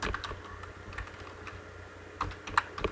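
Quiet typing on a computer keyboard, scattered soft key taps with a few sharper clicks near the end, close by with a low room hum.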